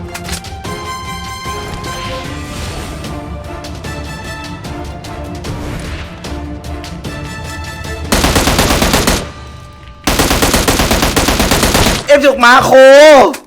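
Rapid automatic gunfire from a gun in PUBG Mobile, loud and sustained bursts with brief pauses, alongside game music and effects, no talking.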